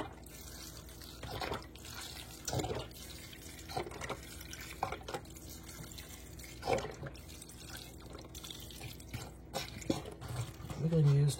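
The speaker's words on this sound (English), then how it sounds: "So I'm gonna add some more of that chicken broth that we use on the turkey." Chicken broth pours into a cooking pot in a home kitchen, a soft intermittent liquid splashing and trickling in short bursts, fairly quiet, with a person talking over it.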